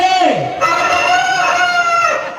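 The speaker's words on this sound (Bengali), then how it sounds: "মুরগি কল করে দিছে" A rooster crows loudly and close, one long drawn-out call rising and holding before fading.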